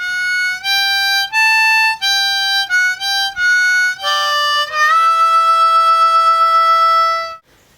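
Harmonica in G playing the higher part of a tune, a quick series of bright separate notes, then a long held note with slight warble, solo and close, loud and clear with no voices.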